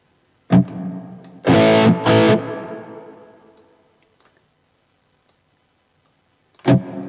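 An electric guitar through a plexi amp model on a multi-effects unit rings out distorted chords, a short stab followed by two heavy strums that sustain and fade to silence, then another loud strum at the end.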